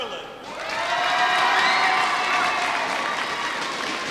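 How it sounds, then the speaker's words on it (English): A loud arena crowd erupts in a sustained roar of cheering and applause for an Irish player at a women's singles badminton semi-final at the Irish Open, swelling after a brief quiet start and holding steady. "you can tell by the roar from the crowd, there is an Irish player on court"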